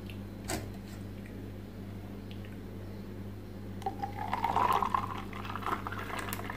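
Oreo milkshake poured into a glass makes a quiet, brief gurgling splash partway through, over a low steady background hum.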